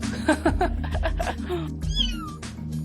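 A cat meows repeatedly, a few short cries followed by a longer rising-and-falling wail, close and clear over a low background hum.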